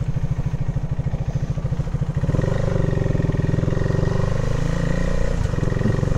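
A KTM 390 Adventure single-cylinder motorcycle under way, its engine pulsing loudly and steadily, then the pitch shifts as a quickshifter changes gear without the clutch.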